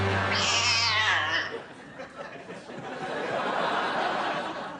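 A cat yowl sound effect plays on a late-night talk show, a loud drawn-out wavering caterwaul in the first second and a half, then fading into audience laughter and murmuring.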